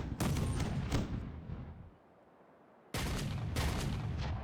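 Cannon broadside from a ship firing in the Caribbean Legend pirate video game, a loud rumbling barrage of booms that fades into a quieter lull before a second burst erupts at full strength.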